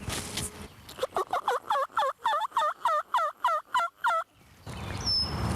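Wild turkey gobblers in the Rhode Island woods during a hunt sound off in a rapid run of about a dozen gobbles, loud and fairly close, in a steady rhythm.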